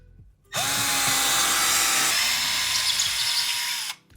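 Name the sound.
power drill driving screw into wall stud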